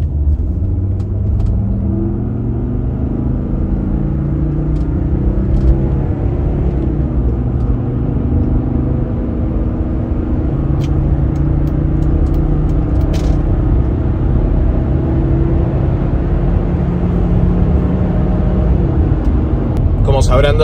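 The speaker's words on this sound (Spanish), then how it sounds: "Ahora vamos a subir a la autopista y van a poder escuchar de nuevo el 5 cilindros." A Mercedes-Benz E250 W124 with its five-cylinder engine cruises on a highway, giving a steady loud low rumble and road noise throughout, with someone talking over it.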